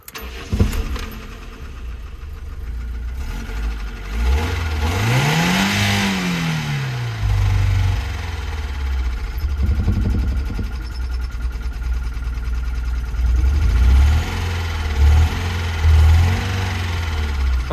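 A BMW E30 Touring engine cranks and catches, then revs once in a long sweeping climb and fall before settling into a rough idle with smaller blips of throttle, loud and nearby.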